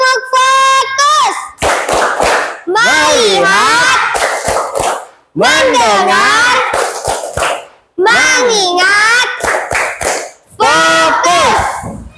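A class of children plays a tepuk fokus clapping game, chanting words in unison between bursts of sharp, rhythmic group claps, repeated in several rounds, loud and close.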